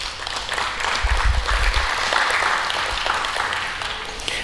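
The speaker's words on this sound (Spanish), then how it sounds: "Un aplauso para él." A church congregation claps and cheers during a sermon, a thick, steady wash of applause with low rumbling underneath, holding at an even level throughout.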